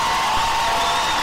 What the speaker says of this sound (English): You can hear the home crowd fired up about that.